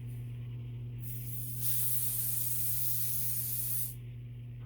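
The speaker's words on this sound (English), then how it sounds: "Now I'm going in with the Ebon spray." A continuous hiss from an aerosol can of adhesive spray applied to a wig frontal, held for about two seconds, close by over a low steady hum.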